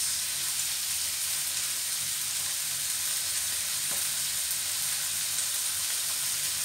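Shrimp sizzle loudly in a pan with butter and garlic as oyster sauce is added. The frying hiss is steady and close, with no talk over it.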